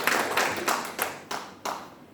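A church congregation claps in uneven bursts during Sunday worship, several rhythmic rounds of applause swelling and fading, fairly close and without talk.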